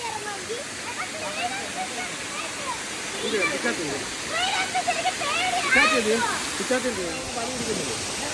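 A waterfall pours steadily as a constant broadband rush through the whole stretch, with people talking loudly over it throughout.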